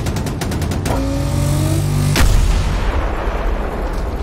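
Incoming artillery fire and explosions in the video game Battlefield 2042: a rattle of rapid shots, a droning engine tone, then one loud, heavy close blast followed by a rumbling tail, with no talk.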